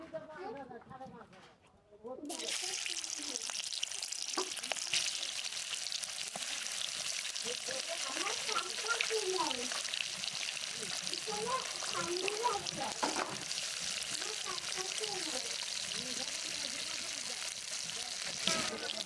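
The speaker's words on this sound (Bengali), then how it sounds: "এখন তেল দিয়ে দেবো মাছ ভাজার জন্য" Carp pieces fry in hot oil in a wok after a moment of near silence, then a continuous soft crackling sizzle that stays steady, low and close, with occasional scraping and a voice talking over it.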